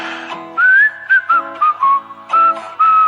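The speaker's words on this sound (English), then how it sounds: "Give us the whistle." Someone whistles a short, bouncy tune up close, clear bright notes rising and falling in quick phrases with brief pauses between them.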